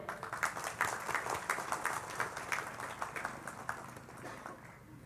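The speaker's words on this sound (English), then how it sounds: "A big round of applause for them." Faint applause from a conference audience, a steady patter of many hands at some distance that slowly eases off over several seconds.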